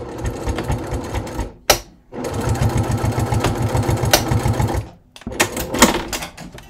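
Sewing machine stitching a leather crossbody bucket bag, two rapid rhythmic bursts of needle chatter separated by a short pause, then brief clicks and handling noises, close and fairly loud.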